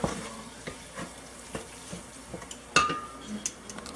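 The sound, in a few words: stirring gumbo in a pot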